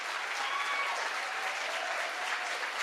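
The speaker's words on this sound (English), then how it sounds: "one more round of applause for them and the work they do" A crowd claps steadily in a sustained, dense round of applause, filling the room without any break.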